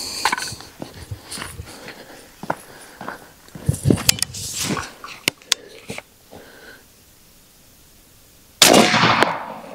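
An AEA Element Max .50 caliber air rifle fires a shotgun-style load after clicks and handling noises; a single loud, sharp blast comes near the end and trails off briefly.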